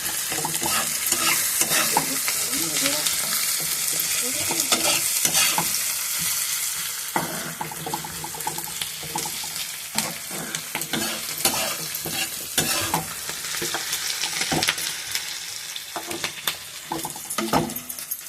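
Onions frying in a pan for chilli fish, a constant close sizzle and crackle broken by frequent scraping stirs of a spatula, lasting throughout.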